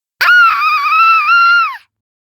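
A girl lets out one loud, sustained high-pitched scream in an animated Little Red Riding Hood tale, held for about a second and a half before trailing off, alone with no other sound.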